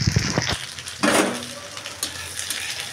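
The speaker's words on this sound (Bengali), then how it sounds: "এখন এই তো লাল শাক ভাজি করে নিচ্ছি" Red amaranth greens (lal shak) frying in a pan over a gas stove, with a soft sizzle under sharp scraping stirs and clinks of a utensil against the pan, close by and alone.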